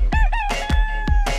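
Crowing of a jungle fowl, a loud close call with a rising-falling tone and two sharp breaks, heard on its own over a low steady hum.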